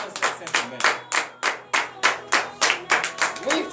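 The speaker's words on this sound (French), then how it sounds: "nous allons nous lever sur nos pieds et donner de vives acclamations à notre Seigneur Jésus" Congregation clapping in praise at a morning prayer service in Benin, about a dozen loud, sharp, evenly spaced claps in steady rhythm, close and dominant.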